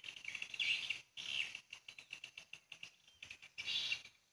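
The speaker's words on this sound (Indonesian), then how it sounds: "Burung nginap semua." Swiftlets inside a swiftlet house give rapid, high-pitched chirping bursts and clicking pulses in quick rhythmic series, fairly faint and echoing, with no talk.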